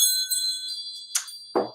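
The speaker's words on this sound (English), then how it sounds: "let's call in spirit with a little bit of Wind Chime Chime" Wind chime ringing in a calm setting, sustained bright metallic tones that shimmer and overlap, with a couple of softer strikes near the end.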